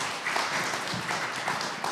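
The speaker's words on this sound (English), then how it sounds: "A little applause for R.J.?" A church congregation claps in brief, moderately loud applause at a congregational meeting, a dense patter of hands lasting about two seconds.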